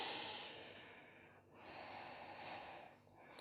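Slow ocean-like Ujjayi breathing in a Vinyasa yoga session, two long hissing breath cycles with short dips between them, close and soft with no talking.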